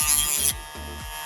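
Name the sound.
trimming a plastic trim piece on a Tesla Model Y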